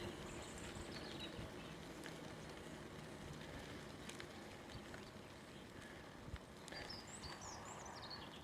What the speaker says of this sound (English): I heard a bird